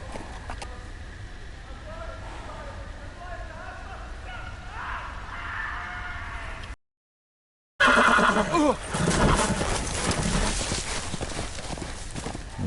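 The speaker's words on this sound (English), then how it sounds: "there goes the horse." Video game audio from a Game of Thrones game in a forest: hooves clip-clop steadily with a horse whinny, cut by a second of silence, then louder movement and trampling resume.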